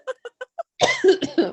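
A person coughs several times: four short, dry coughs in quick succession, then a louder, rougher burst of coughing, close and clear with no talk.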